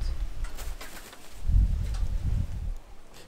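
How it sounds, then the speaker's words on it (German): Pigeons or doves coo in low, soft, rolling calls near Arenal Volcano in La Fortuna, Costa Rica, with faint rustling in the outdoor background. "schon besuchen wir uns hier so ein paar Vögel"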